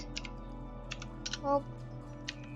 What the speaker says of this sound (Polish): wpisujemy tutaj ukośnik